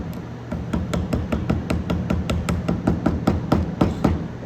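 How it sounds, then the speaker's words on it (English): A chisel struck repeatedly with a mallet while cutting dovetail pins in wood, a steady rhythm of about eighteen sharp, close knocks in quick succession. "I've got my chisel flipped over."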